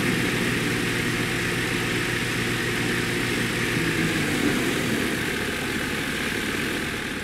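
A continuous droning helicopter rotor-and-engine hum from the video game Age of Water holds steady throughout, loud and close, with no speech.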